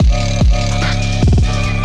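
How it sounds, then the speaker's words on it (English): Phonk beat run through a Gross Beat basic 6 stutter on the master: heavy bass and drums chopped into quick repeating slices with downward pitch swoops, loud and steady throughout. "I like using different stutter ones like this one. This one's basic 6."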